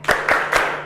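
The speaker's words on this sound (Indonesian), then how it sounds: "Kita kasih tepuk semangat 2 kali ya." A school class claps a rhythmic spirit cheer, three sharp group claps in quick succession, close and loud in a classroom.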